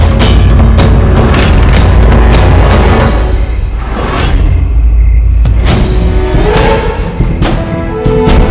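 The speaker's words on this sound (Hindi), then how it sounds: "हमारा बारूद तो उड़ा दिया" Stored gunpowder blows up on a battlefield, a heavy sustained booming roar with deep rumbling thuds that fills the whole stretch loudly and close, with no voices.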